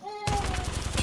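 Rapid gunfire in a 1v1 video game fight, a loud burst of repeated shots in quick rhythm that starts abruptly after a brief tone.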